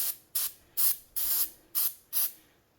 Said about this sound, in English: I'm going to give this a spray.